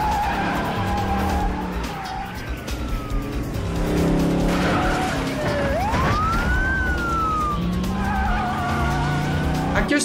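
A 1966 Ford Mustang skids through a film car chase, with loud, sustained tire squeal and engine roar plus rising and falling siren wails running continuously for about ten seconds.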